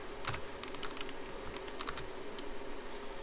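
Quick, uneven keystroke clicks on a computer keyboard while working in OpenSCAD, close and fairly quiet, coming in short bursts with no talk.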